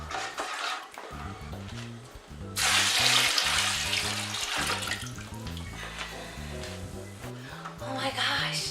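Water runs into a 5-gallon vessel being filled for banana wine, a steady splashing rush that grows louder midway, with music underneath.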